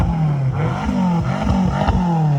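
A BMW M6 engine revs repeatedly, loud and close, its pitch climbing and falling in several rising surges that seem to top out around a limiter, with no voices during the run.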